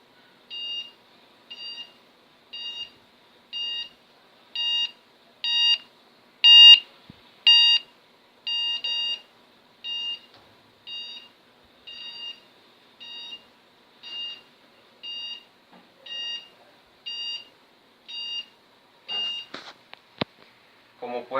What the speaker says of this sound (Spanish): realizar un ejemplo con un sonido en el celular, y dependiendo a la distancia en que me encuentre se escuchará más agudo o más grave